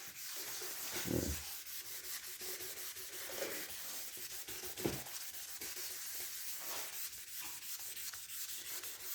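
A hard rubber sanding block rasps back and forth in steady, close strokes, a soft continuous scratchy rubbing with a few louder pushes.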